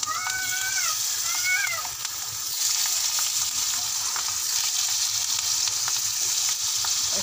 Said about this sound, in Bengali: হয়ে গিয়েছে এখন ভাজা, আলু ভাজা আর করলা ভাজা